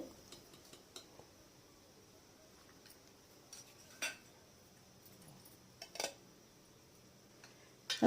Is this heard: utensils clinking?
yes